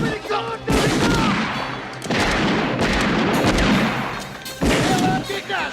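Gunfire in a western movie: dense bursts of loud, close shots crackle and boom in three waves separated by brief lulls, with shouted voices mixed in.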